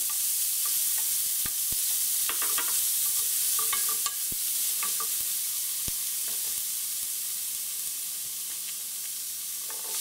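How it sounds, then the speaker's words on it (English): Chopped onion sizzling in a pan for a Bengali chital fish dumpling curry, a steady close hiss broken by occasional sharp clicks of a spoon stirring against the pan. "Then add the chopped onion and stir that for a minute or two."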